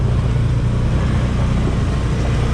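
A Can-Am Defender XMR side-by-side on mud tires climbs a wooded hill, its engine a loud, steady drone held close and constant throughout, with no voices.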